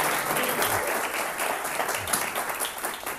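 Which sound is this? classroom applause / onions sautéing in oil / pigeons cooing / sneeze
classroom applause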